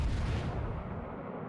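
Naval gunfire in World of Warships Legends, a heavy rumbling salvo with booming low end that decays over a second and a half, loud and alone without voices.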